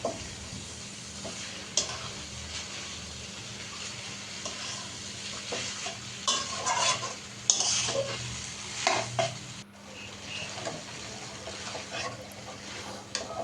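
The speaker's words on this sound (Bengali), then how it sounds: "এই তো নাড়াচাড়া করে এখন নুডলসটা রান্না করে নিচ্ছে" Boiled noodles and pasta tossed with egg in a hot pan, steady sizzling under irregular stirring scrapes and light clinks of utensil on metal, growing busier toward the middle, with no speech.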